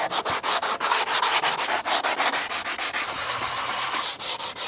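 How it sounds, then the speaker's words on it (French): Hand sanding the back of a wooden picture frame with sandpaper, a close, dry rasping scrape in quick repeated back-and-forth strokes, steady and continuous with no voices. "Et je vais essayer de le poncer."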